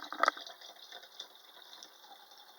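Woolworths sparkling mineral water fizzes and froths softly in a container, a brief louder gush at the start settling into a faint, steady crackle of bubbles.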